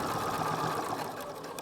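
A sewing machine stitches a channel for drawstring ear loops on a fabric face mask, a steady close-up mechanical whir with no breaks.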